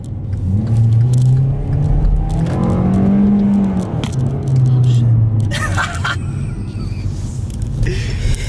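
Supercharged dually pickup truck engine revving loudly nearby with a deep, sustained rumble that rises and falls in pitch, while people talk and shout over it.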